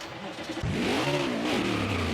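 Race car engine from NASCAR Heat 5 roaring loud and close on a qualifying lap, revving up sharply after a brief dip and holding a steady high-pitched drone.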